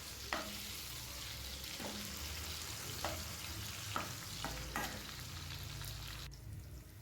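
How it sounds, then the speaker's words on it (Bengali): Potato and pumpkin pieces lightly frying in a pan for khichuri, with a steady soft sizzle broken by several sharp scraping stirs of a spatula. Close and fairly quiet, with no voices. "খিচুড়ির মধ্যে আমি একটু আলু আর একটু কুমড়ো দিয়ে দেবো ওই জন্য এটাও একটু হালকা করে ফ্রাই করে নিচ্ছি"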